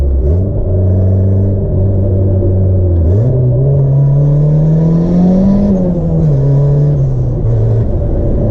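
Turbocharged Honda Civic with an aftermarket short-throw shifter, engine loud and close, droning under load, dropping in pitch at a shift, then pulling up again and easing back with a steady rumble throughout.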